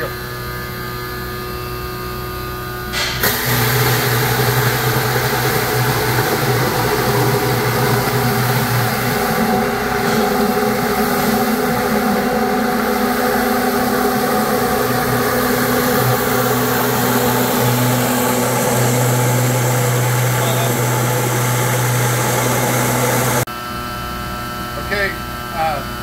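Industrial grinder at 3,500 RPM processing 20 pounds of whole celery through a 3/16 round hole screen, a loud, steady roaring drone with a strong hum that starts abruptly and cuts off after about twenty seconds.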